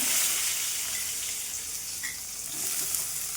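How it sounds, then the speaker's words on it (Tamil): Chopped onions frying in a pan with a little white urad dal, a dense, steady crackling sizzle close by with slight swells in loudness and no voices. "வெங்காயம் வந்து நல்லா செவந்து வர அளவுக்கு வந்து நல்லா வதக்கி எடுத்துக்கலாம்"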